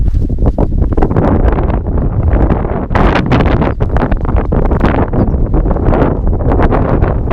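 Cold wind gusts hard across a lakeside campsite, buffeting the microphone with loud, rumbling roars that rise and fall in uneven surges, with faint rustling underneath and no voices.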